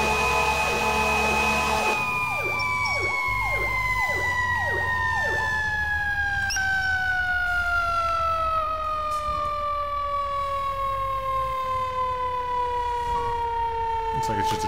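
Fire truck siren in the video game EmergeNYC, a loud wailing siren that holds steady then slowly falls in pitch over a rumbling engine, with brief talk near the start.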